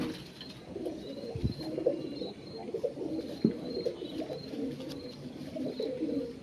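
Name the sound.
pigeons cooing, Kalaka pigeon pair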